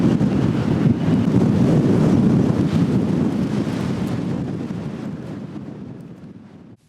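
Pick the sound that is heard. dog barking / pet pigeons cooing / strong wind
strong wind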